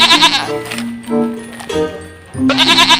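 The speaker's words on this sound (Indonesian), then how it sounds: "Wah, di sini ada suara kambing, teman-teman." Goats bleat repeatedly in a livestock pen, loud, close, wavering calls separated by short pauses, with no talking over them.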